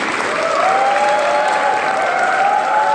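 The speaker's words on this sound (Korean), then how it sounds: "뜨거운 박수 부탁드리겠습니다." Audience applause at a press conference where Asan mayor Bok Gi-wang announces his run for South Chungnam governor, a dense, steady clapping that fills the whole stretch at close range, with a faint sustained tone running underneath.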